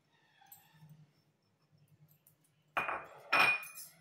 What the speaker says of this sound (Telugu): ఇవన్నీ వేసేసి బాగా కలిపేసుకున్నాము